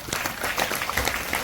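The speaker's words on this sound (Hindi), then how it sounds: "इनके लिए जोरदार तालियां" An audience at a body mechanism and nutrition talk claps for Babita Devi, a moderately loud, dense patter of many hands lasting about a second and a half.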